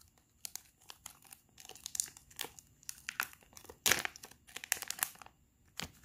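Crinkly plastic packaging of Halloween wax melts is unwrapped and crumpled close by, irregular bursts of crackling and tearing with short pauses between.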